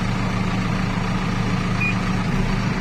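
A Massey Ferguson 6714S Dyna6 tractor reverses, its engine holding a steady low drone under a thin, high alarm tone that cuts in briefly near the end.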